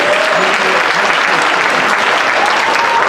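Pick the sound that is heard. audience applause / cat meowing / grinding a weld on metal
audience applause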